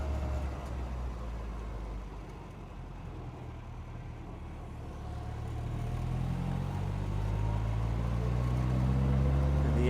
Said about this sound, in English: And the engine pulls nicely.